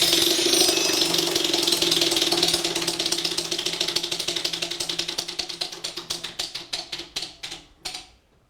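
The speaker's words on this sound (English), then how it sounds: "Go ahead and spin the wheel." A prize wheel in a quiz game spins with a rapid, close ratcheting clatter from its pointer that gradually slows into distinct spaced clicks before stopping.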